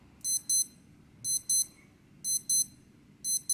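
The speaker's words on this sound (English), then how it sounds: "That's actually a pretty nice volume alarm." A Casio F-91W digital watch alarm beeps in four evenly spaced bursts, each a pair of quick high-pitched electronic chirps, fairly loud and close against a quiet background.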